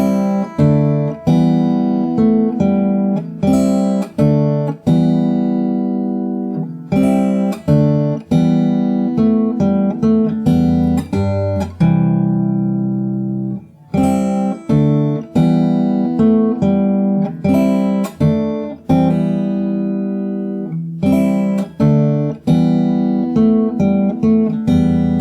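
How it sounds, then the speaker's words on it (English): Solo fingerstyle acoustic guitar plays the full verse of a song, with steady arpeggiated and rolled chords repeating in an even rhythm, close-miked and bright, with no talking throughout. "So the whole verse from the start sounds like this."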